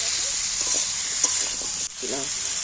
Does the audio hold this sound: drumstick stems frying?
yes